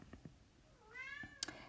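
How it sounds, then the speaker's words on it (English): A house cat gives a single drawn-out crying meow, faint and somewhat distant, with a few soft knocks before it and a sharp click near the end; no talking. "That's my cat crying."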